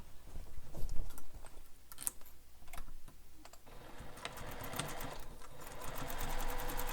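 Sewing machine basting along the side edge of a beach bag, a steady close mechanical stitching whir that runs in short bursts and then settles into a continuous run, with no talking.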